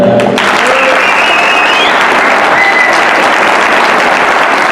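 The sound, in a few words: audience applause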